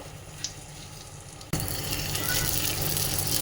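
Whole-spice tempering for vegetable pulao sizzles and is stirred in a pan, a quieter hiss giving way halfway through to a loud, steady frying roar with scraping, no voices.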